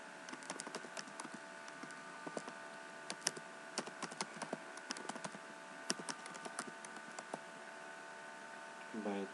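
Quick, light keystrokes clatter on a computer keyboard while Python code is typed into a Jupyter Notebook, an irregular run of close clicks over a steady electronic hum with no talk.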